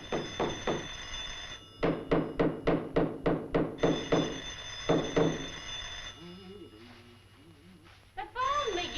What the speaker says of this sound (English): The phone, McGee.